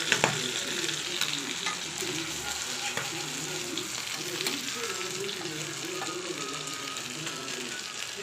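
Fish frying in a pan of oil for a home-style fish fry, a loud continuous crackling sizzle with scraping and stirring noises throughout, close up and without talk.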